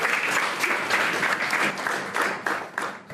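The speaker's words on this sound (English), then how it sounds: "Give each other a clap, please." A group of children claps together in a burst of applause, steady and close, fading slightly toward the end.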